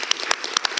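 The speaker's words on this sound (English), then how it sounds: "We can clap. Let's clap." Clapping at a city council meeting after a proclamation: a brief, dense patter of several people's hands, moderately close, with a few sharper individual claps standing out.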